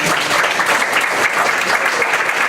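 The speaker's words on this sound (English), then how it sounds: "let's give a huge round of applause for Melissa Chapman" Audience applause at a winter gala fills the room, a dense, steady wash of many hands clapping close by for the whole stretch without a break.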